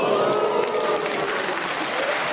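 Studio audience applause during a Just A Minute comedy panel show recording, a dense, loud, sustained wash of clapping from a full room lasting a couple of seconds.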